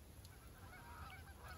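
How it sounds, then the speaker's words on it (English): Faint, distant honks from a flock of geese sound outdoors across open land, a few calls rising over a low, steady background hum. "sometimes you can hear flocks of geese out here"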